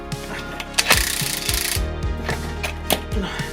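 Ratchet wrench working slightly rusted bolts loose on a Fiat Panda 100HP TJet: irregular bursts of metallic clicking and clunks, close up, with brief pauses between strokes.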